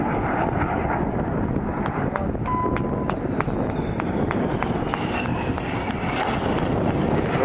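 Jets of an aerobatic display team make a final roaring pass over the crowd at Bournemouth Air Festival 2011, a loud sustained rushing blast buffeted by heavy wind noise on the microphone.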